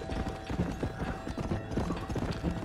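Horse hooves pound in a quick galloping rhythm in the video game Red Dead Redemption, a close, steady clip-clop that fills the whole moment.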